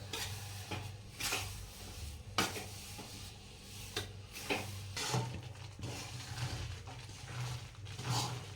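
Urad flour roasting in ghee in a pot for adadiya pak, with a soft continuous sizzle and repeated scraping and clinking of a spoon stirring against the metal pan, faint and close.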